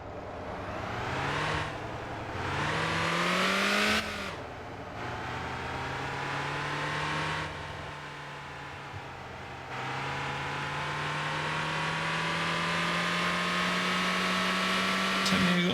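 A noisy bus engine in the Motor Town driving game drones steadily, rising in pitch as it accelerates through gear changes, loud and continuous for the whole stretch.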